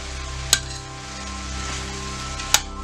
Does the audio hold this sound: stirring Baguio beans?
yes